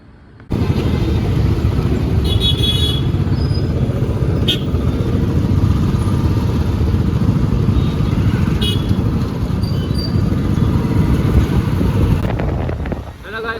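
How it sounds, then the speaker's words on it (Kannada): A motorbike rides along a road with steady, loud engine drone and heavy wind buffeting throughout, starting abruptly and running continuously. "ಸಾತ್ವಿಕ್ನ ಬೈಕ್ ಇದನ್ನೀಗ ತಗೊಂಡು ಹೋಗ್ತಿದ್ದೇವೆ."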